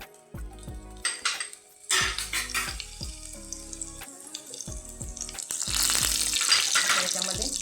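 Cumin seeds crackle and sizzle in hot oil in a pot for a traditional homestyle vegetable dish, with close metallic clinks of utensils against the pot. The hiss swells louder and denser toward the end, with no talking.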